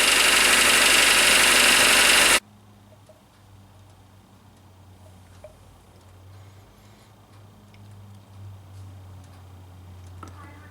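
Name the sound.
engine with mild rod knock idling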